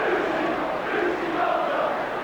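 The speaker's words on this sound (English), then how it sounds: "the crowd are calling for Brucey Grobbelaar, who's a great Kop favourite" Large football stadium crowd at Norwich City versus Liverpool chanting for goalkeeper Bruce Grobbelaar, a dense sustained roar of many voices, loud and continuous with no commentary over it.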